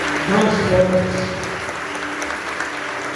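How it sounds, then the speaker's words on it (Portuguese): A church congregation at a Mass for Our Lady of Fátima applauds, steady clapping mixed with sustained sung or spoken voices and a low hum of the room, loudest near the start and easing slightly afterward. "aplauda o Senhor Jesus"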